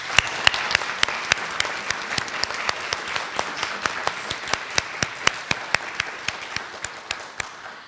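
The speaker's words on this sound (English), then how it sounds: "I want to give a round of applause to the group and the students that have been" Audience applause at the 2024 Three Minute Thesis finals for the student competitors: steady, moderately close clapping from a sizeable crowd with distinct sharp individual claps standing out throughout, no talk.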